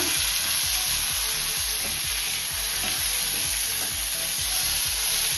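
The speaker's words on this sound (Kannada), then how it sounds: "ಈಗ ಒಣ ಕೊಬ್ಬರಿ ಒಂದು 5 ನಿಮಿಷ ಚೆನ್ನಾಗಿ ಹುರ್ಕೊಳ್ಳೋಣ." Dry coconut roasting in a pan for misal pav masala, with a loud, steady frying sizzle and a rhythmic scraping of stirring throughout.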